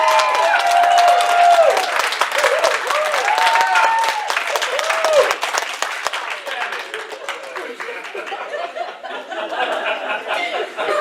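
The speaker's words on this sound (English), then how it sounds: "if I can record the round of applause we got at the end" A crowd applauding at a library open mic night with scattered cheers and whoops, clapping dense and loud at first, then thinning out as voices mingle in.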